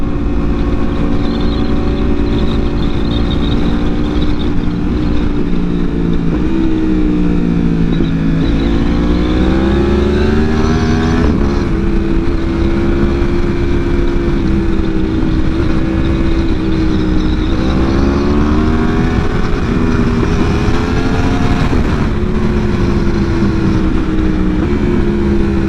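Loud, continuous engine note of a Yamaha R1 motorcycle while riding on a narrow road, the pitch rising and falling with throttle changes over steady wind roar.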